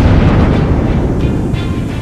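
A bomb blast on a crowded evening Mumbai commuter train at Matunga Road station in 2006: a loud, continuous roaring rumble that fills the whole stretch without easing, with no voices.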